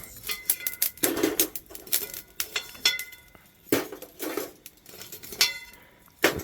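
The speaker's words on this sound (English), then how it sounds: "she's gonna take some of the coal and put on top of the zinc" Lumps of burning coal set onto a zinc pot cover over a pudding baked the traditional Jamaican village way, giving scattered metallic clinks and scrapes in irregular bursts, close by with no talk.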